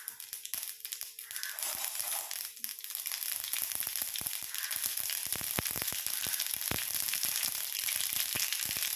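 Drumsticks dropped into hot coconut oil with spluttering mustard seeds for an egg thoran, a steady close sizzle with scattered sharp pops and crackles, no speech.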